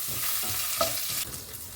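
Washed curry leaves added to a hot pan for poha puliyogare: a brief hissing sizzle that flares up and then settles into a steady frying crackle, close and fairly quiet, with no talk.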